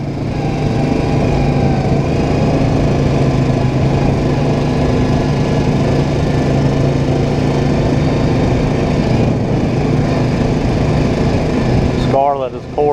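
A Yamaha Kodiak 700 and a Honda Rancher ATV, the Kodiak still in break-in, drone steadily along a trail with a continuous high engine whine that stays close and loud throughout, with a brief rattle near the end.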